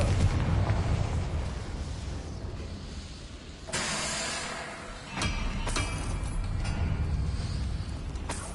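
Confringo fire spell blasts in Hogwarts Legacy, several loud fiery explosions with sharp bursts and crackling debris over a rumbling backdrop, fairly close.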